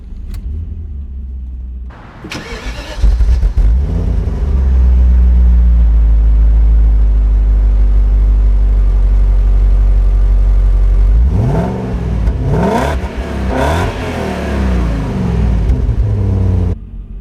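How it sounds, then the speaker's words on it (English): A Dinan-supercharged BMW 7-Series fires up with a sharp crank, settles into a loud, steady idle rumble, then pulls away with rising engine revs and whir as it drives off, no talk over it. "let's go ahead and start this thing up, go for a little drive"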